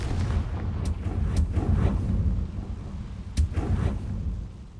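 Repeated spell explosions from the video game Hogwarts Legacy, with heavy booming blasts and sharp cracks going off in quick succession over a rumbling low background, loud and close.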